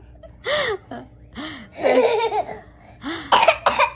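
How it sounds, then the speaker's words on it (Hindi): Several harsh coughs come in separate bursts, close up, with a few laugh-like breaths mixed between them. "उसकी खांसी नहीं जा रही"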